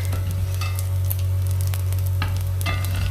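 Crispy bacon sizzles steadily in a frying pan, a continuous close crackle and hiss over a low hum, with occasional sharper pops and utensil scrapes.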